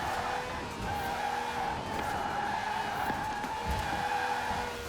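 In Forza Horizon 4, a quirky fast car's tyres squeal and skid through corners over a sustained engine drone, a continuous loud screech with faint commentary underneath.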